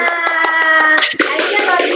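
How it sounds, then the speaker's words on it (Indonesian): A classroom of students clapping hands in a peer-teaching lesson, a rhythmic run of distinct claps over a sustained tonal hum, with children's voices mixed in. "Berikan tepuk tangan yang meriah untuk"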